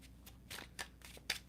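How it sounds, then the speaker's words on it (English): Tarot cards being shuffled by hand, a few soft riffling bursts and light card slaps, quiet and close against a low background hum. "I'm going to finish shuffling."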